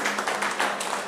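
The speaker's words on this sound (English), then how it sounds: "let's give a round of applause" Brief, even clapping from an audience at a middle school town hall meeting, a soft wash of many hands at moderate distance with no voices over it.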